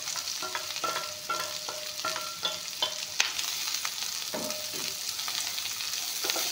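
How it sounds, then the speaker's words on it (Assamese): Onions and green chillies fry in hot refined oil with an even, continuous sizzle. Soft, repeated stirring taps and a few scraping strokes sit over it, close by, with no speech. "এতিয়া পিঁয়াজ জলকীয়াখিনি অলপমান ভাজি ল'ম।"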